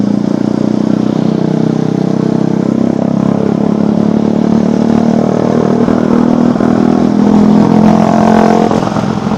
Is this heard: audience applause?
no